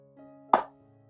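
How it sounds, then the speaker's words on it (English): One sharp, hollow knock of a hard-shell plastic pencil case set down on a table, over a faint steady hum. "This one you can hear it is a hard shell."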